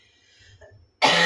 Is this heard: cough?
yes